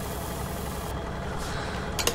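Tractor engine running in Farming Simulator 19 during crop spraying and harvest work, a steady low idle-like drone heard alone, with a faint click near the end.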